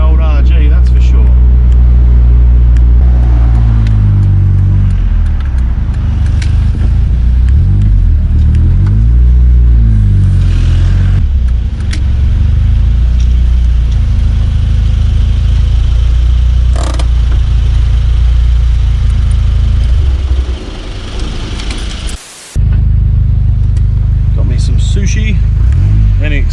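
A Toyota RA40 Celica engine drones loudly from inside the car while driving, its pitch rising and falling through gear changes in a steady rumble, with a brief drop near the end and talking over it.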